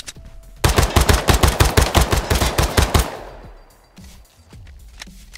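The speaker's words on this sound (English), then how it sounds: "It's like I can hear the freaking gunshots, but I'm like looking." Gunfire from the tactical shooter game Ground Branch: a rapid burst of roughly fifteen loud, close shots in quick automatic rhythm, followed by a fading echo and quiet.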